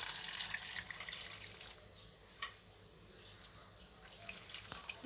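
Water pours over pickles in a jar, a faint trickling and splashing that thins to quiet drips and then picks up again briefly, with no voice.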